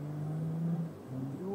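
UAZ Patriot and Toyota Land Cruiser 80 in a tug of war, engines droning and revving under load with shifting pitch, wheels smoking, heard at moderate distance with no talk.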